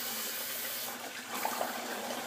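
Water runs and splashes steadily as a face and a synthetic shaving brush are wetted at a sink, a soft continuous wash with a few small splashy bursts near the end.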